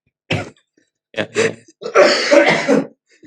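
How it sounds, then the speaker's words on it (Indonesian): A person coughs and clears their throat several times up close, starting with one short burst and then a longer, harsher run of coughs, with silence in between. "Sorry ya guys, saya lagi batuk."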